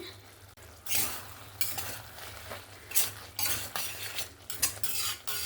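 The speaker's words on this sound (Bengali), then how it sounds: "দু থেকে তিন মিনিটের মতন ভালো করে একটু নাড়াচাড়া করে কষিয়ে নিয়েছি" Spiced masala is stirred and fried in a pan for a village-style prawn and Malabar spinach stalk curry, with scraping spoon strokes over a low steady sizzle, close and moderately loud, no voices.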